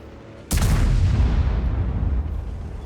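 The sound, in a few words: tank gun shot in World of Tanks video game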